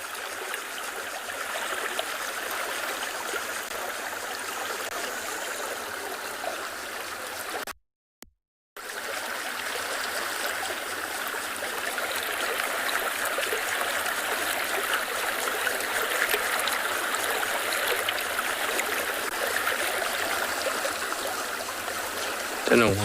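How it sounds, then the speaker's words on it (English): Water trickles down a riverbed in the South African bush, a steady, close, continuous burble and hiss. It runs alone throughout, broken only by one brief gap of silence. "sit and listen to the water trickling down the riverbed. I'm going to keep quiet so you can hear it"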